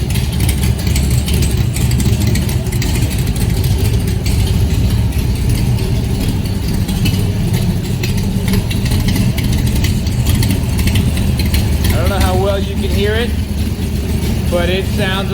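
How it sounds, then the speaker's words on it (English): A 1965 Shelby Cobra V8 fires up from cold and settles into a loud, steady idle with a rough, throbby exhaust note, while someone talks over it. "And then start the engine."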